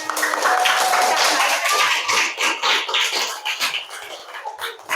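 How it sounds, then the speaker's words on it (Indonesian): A classroom of students clapping hands together: a loud, busy patter of claps that thins into scattered, uneven claps toward the end, with a voice speaking over it. "Tepuk tangan semuanya."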